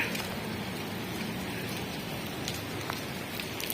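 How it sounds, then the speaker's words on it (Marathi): Fairly heavy rain pours steadily onto a rooftop terrace, a dense, even hiss of drops with occasional louder splashes, close by and with no voices. "इथे पाऊस चालू आहे, जोरातच म्हणावं लागेल, कारण की एवढं स्लो पण नाही आहे"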